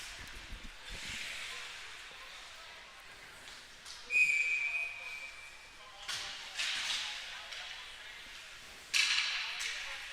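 A referee's whistle in a youth ice hockey game, one short sharp blast for offside cutting through arena crowd noise, with a commentator talking over the rink ambience.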